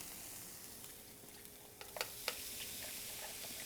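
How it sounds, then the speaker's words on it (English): Corn kernels char in a hot pan and give a faint, steady sizzle, with a few light ticks and taps partway through. "Getting a nice char on the corn."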